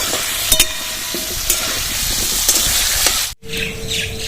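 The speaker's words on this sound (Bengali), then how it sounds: "হলুদ আর লবণ দিয়ে ভালো করে আলুটা ভেজে নেব" Potato pieces fry with turmeric and salt in a pan, a continuous close sizzle with a few sharp clinks of a utensil, cut by a brief silence near the end before the frying resumes.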